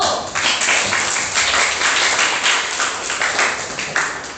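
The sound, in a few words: classroom applause for a student group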